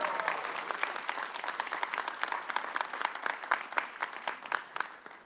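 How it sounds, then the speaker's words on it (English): Audience applause at a pop culture expo panel, a steady burst of many hands clapping in a hall, moderately distant and continuous for several seconds. "I think we give him a round of applause."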